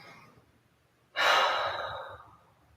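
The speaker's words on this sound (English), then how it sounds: "Just take a nice deep cleansing breath in this pose first." A single long, deep cleansing breath is taken during a yoga pose, an airy rush that starts suddenly, holds steady, then fades out gently, close and clear with no talk.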